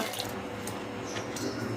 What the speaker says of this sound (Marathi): मुगडाळीच्या कचोरीचं धुवून घ्यायचे आहे आपल्याला स्वच्छ